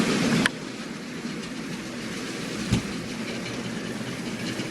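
An old OO gauge model 8F steam locomotive struggling to pull a train on a layout, a quiet steady motor whir and track rumble running throughout with two brief louder clicks, close with no talking.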